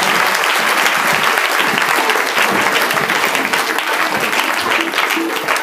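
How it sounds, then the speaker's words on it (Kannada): Wedding guests clap loudly and continuously as the bride and groom arrive, a dense close crowd applause that holds steady throughout. "ಬಟ್ ಜೋರಾಗಿ ಚಪ್ಪಾಳೆ ಬಟ್ಟು ಮದುಮಕ್ಕಳು ಬರಕತ್ತಾರ."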